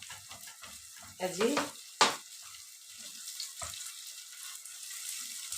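Carrots and other vegetables sizzle as they are sautéed in a pan, a soft steady fry with a few brief stirring scrapes, while someone speaks briefly.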